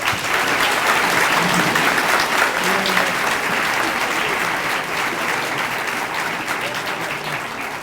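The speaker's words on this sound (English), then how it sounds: "Please give these students a round of applause." Sustained applause from a large audience at a high school senior awards ceremony, dense and steady for the full stretch, with faint voices mixed in and a slight fade near the end.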